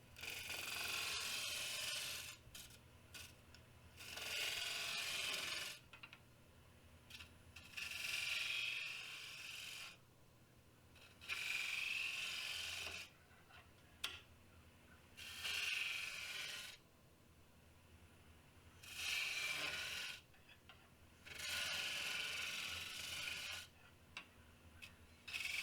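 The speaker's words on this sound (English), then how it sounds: "Here I'm just going to round off the edges." Edges of a workpiece are rounded off in bursts of steady abrasive rasping, about eight passes of a few seconds each separated by short pauses, fairly quiet and close with no talk.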